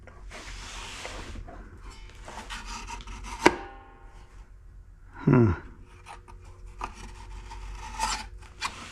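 Heater blower fan scrubbing and scraping inside the dash of a 1970 Buick Wildcat, with uneven rasping bursts, a sharp click and a short squealing rub, close and moderately loud without speech.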